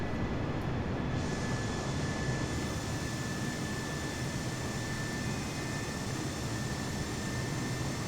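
Steady, loud airliner engine drone during a night climb out of Paris in Microsoft Flight Simulator 2020, a continuous broadband roar with a faint high whine holding throughout, no voices.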